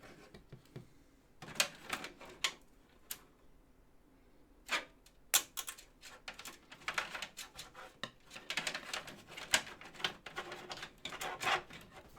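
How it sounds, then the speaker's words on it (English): Scissors snip and trim cables inside a budget AMD gaming PC build, a series of sharp irregular clicks and snips with quiet pauses between, close up and without speech. "I'm just going to use some scissors right now."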